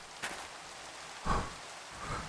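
Steady rain falling in the Minecraft video game, a soft continuous hiss with a few louder gusts of patter, fairly quiet and with no voices.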